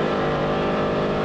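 A Polaris Ranger XP1000 side-by-side in performance mode and two-wheel drive on a trail gives a steady, loud, close engine drone with a strong tonal hum, briefly sustained with no voices.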